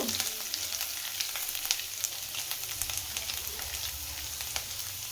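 Vegetables fry over a medium flame in a pan for veg hakka noodles, a close, steady crackling sizzle dotted with small pops, with no voices.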